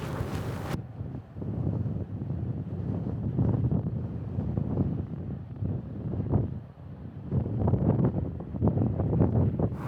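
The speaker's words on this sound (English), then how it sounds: "So the wind certainly makes it a challenge to work out here." Strong wind buffets the microphone across an open Icelandic landscape, a steady low roar rising and falling in gusts throughout, with no voices.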